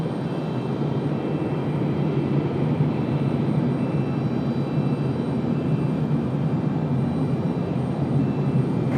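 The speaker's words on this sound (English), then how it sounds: "Now that the big girl is on the move, the American 777 finally pushing it back here this afternoon" An American Airlines Boeing 777 moving at an airport during pushback, heard as a steady low engine rumble and broad roar, moderately loud and constant, with no voices.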